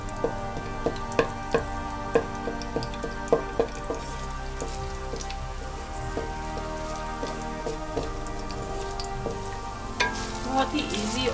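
Garlic frying in a pan over raised heat for coriander rice, heard as a dense, rain-like sizzle with a low background hum, dotted with clicks and taps from a utensil stirring it, and no talking.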